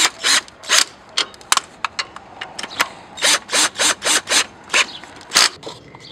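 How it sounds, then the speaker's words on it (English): Ratchet wrench winding down engine mount nuts on a 2004–2013 Mazda 3, a series of quick clicking bursts with short pauses between them, close and fairly loud, no talking. "so we'll wind the nuts down."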